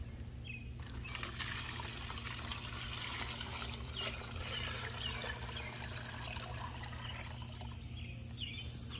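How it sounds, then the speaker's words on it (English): Rusty liquid from a metal Honda gas tank pours steadily into a clear container, a continuous close trickling splash running throughout with no voices. "I'll pour a little bit in something clear"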